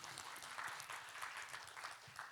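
A conference audience at a 2020 economic outlook event on the real estate market claps together in a soft, dense, continuous round of applause, heard from a distance with no voice over it.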